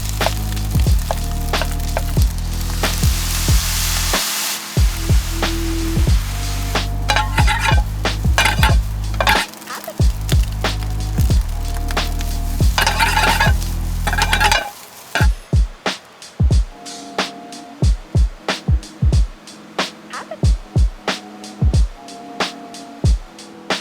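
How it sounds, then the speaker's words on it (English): Leftover rice is stir-fried in a pan for fried rice while camping by a roaring river, with steady sizzling and repeated scraping and clanking of a utensil against the pan, loud and close, without talk. "And in goes the rice."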